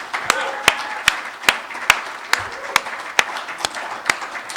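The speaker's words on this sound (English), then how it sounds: "Another round of applause for Yonas, guys." A small audience claps at a live music event in a room, producing a thin, uneven patter of individual claps that comes through sparse rather than as a dense crowd roar.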